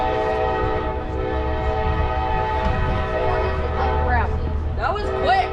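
CSX freight train passing in Dalton, Georgia, its multi-tone horn blaring loud and sustained over steady rumble of the railcars, with a person talking nearby.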